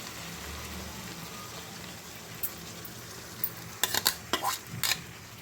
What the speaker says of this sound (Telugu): టమాటాలను వేసుకొని ఈ విధంగా తిప్పుకోండి